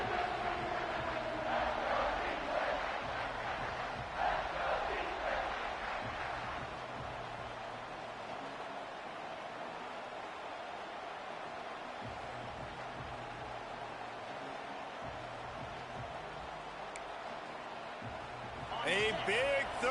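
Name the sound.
football stadium crowd roaring before third down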